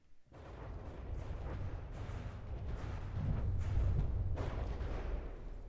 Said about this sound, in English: All of the micro missiles are launched.